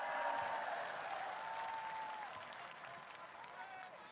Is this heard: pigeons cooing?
no